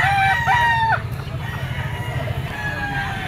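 A young rooster (stag), straight-combed and yellow-legged, crows loudly and nearby at a busy pet market, one full cock-a-doodle call followed by fainter clucking and crowing amid crowd murmur and talk.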